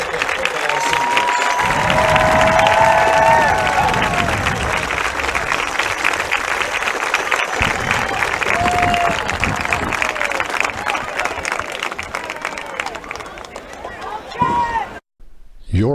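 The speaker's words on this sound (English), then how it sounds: "how about a round of applause for our 2019 NCHS Bearcats football seniors." A crowd at a 2019 high school football game applauds and cheers the Bearcats' seniors, with a loud sustained roar of clapping and shouts and whistles across the stands, then a brief drop near the end.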